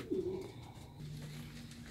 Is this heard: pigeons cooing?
yes